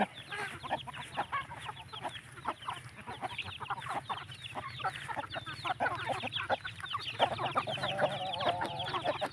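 Several chickens cluck and chatter close by in a busy, continuous jumble of short calls over a low background hum.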